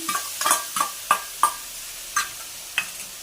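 Spices and ginger-garlic paste fry with browned onions in a pan under a low sizzle, broken by about eight sharp, evenly spaced clacks of a spoon stirring against the pan.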